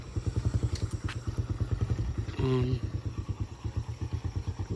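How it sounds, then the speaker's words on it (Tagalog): A single motorcycle engine putters at a steady idle close by, with a brief clunk and rattle partway through as the bike is moved and parked. "Diyan po pinaparking ni Papa John kanyang single na motor"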